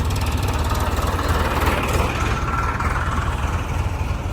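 On a highway at night, tractors roll past with a steady, loud low engine rumble and drone that holds constant throughout.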